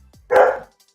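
A single loud, close bark from a Rottweiler, one sharp burst standing alone against a quiet background.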